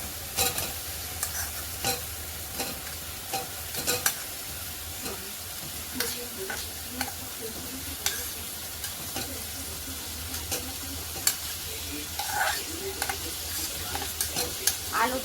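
Potatoes stir-fried with spices in a home kitchen pan, then mixed with fried paneer: a steady close sizzle under repeated scraping and clacking of the spatula against the pan, with no voices.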